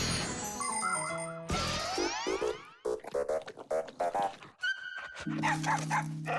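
A cartoon dog barks in a cartoon scene, loud short barks in quick bursts mixed with bouncy music, sound effects and chiming tones.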